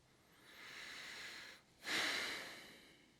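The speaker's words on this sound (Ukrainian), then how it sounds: "Дихаємо повільно." Two slow, deliberate breaths up close during yoga practice: a long airy exhale, a brief pause, then another rushing breath.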